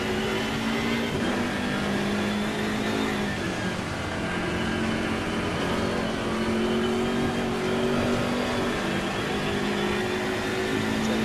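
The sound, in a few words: race car engine in wet, Assetto Corsa Competizione video game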